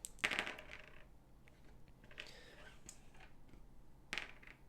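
Dice rattle and clatter onto a tabletop during an Eldritch Horror board game, a sharp burst at the start followed by softer tumbling and a final quick click, faint against a quiet room hum.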